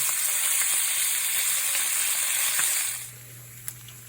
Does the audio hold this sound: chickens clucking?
no